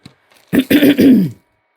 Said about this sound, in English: Sorry, I have to keep clearing my throat.